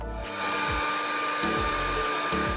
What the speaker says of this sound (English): They wanted to get their cat dry, but it was having none of it and started beefing with the hairdryer.